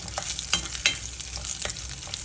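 Raisins roast with dry fruits in a pan: a soft, steady sizzle broken by light scraping and clicking stirs every fraction of a second.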